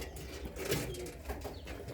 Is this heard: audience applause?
no